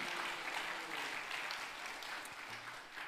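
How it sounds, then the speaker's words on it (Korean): A church congregation claps together during a Korean Presbyterian service, a dense, even patter of many hands that sounds somewhat distant and soft, holding steady for a few seconds. "박수 한번 올립시다"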